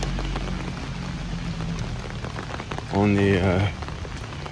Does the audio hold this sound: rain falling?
yes